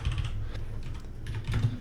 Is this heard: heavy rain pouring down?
no